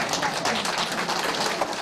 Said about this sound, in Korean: 노인들의 박수가 쏟아진다